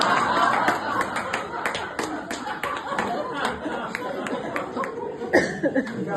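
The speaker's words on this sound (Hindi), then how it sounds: "क्या तालियां बजा रहे हैं ना" An audience at a Hindi poetry gathering in Dalhousie claps in a steady patter of sharp hand claps under light chatter and chuckles, with a louder cluster near the end.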